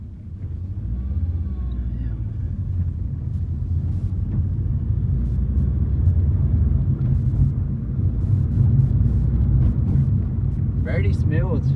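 A Subaru Impreza WRX STI wagon cruises along with a steady, deep engine and road rumble heard from inside the cabin, droning evenly throughout, while someone talks over it.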